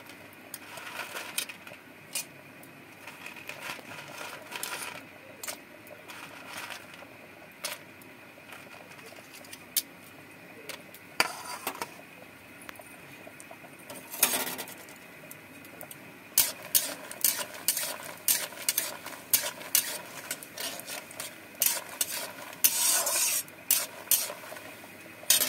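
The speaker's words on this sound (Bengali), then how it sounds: "এবার আমি প্রথমে বড়িটা ভেজে নেব।" Bori (lentil dumplings) fry in hot oil in a wok, giving scattered crackles and sharp pops over a soft hiss, sparse at first and growing denser and busier toward the end.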